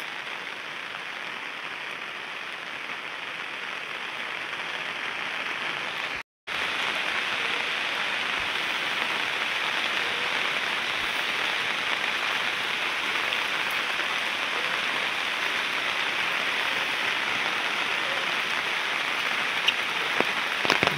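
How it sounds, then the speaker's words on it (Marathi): Steady rain falling over a foggy Konkan village near a temple, a dense continuous hiss of drops on surfaces that holds loud and even throughout, with one brief dropout. "बघा धुकं आणि पाऊस."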